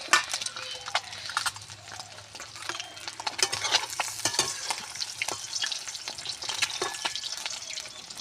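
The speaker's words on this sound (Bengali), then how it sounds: "দেখুন আমার ডিমগুলো কিন্তু একদম ভাজা ভাজা হয়ে গেছে।" Eggs frying in a pan for a home-style egg curry, a steady close crackle and sizzle with scattered sharp spatters and stirring clicks throughout.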